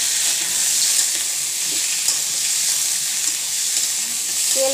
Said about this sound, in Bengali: কড়াই এবার নড়ি বেড়াচ্ছে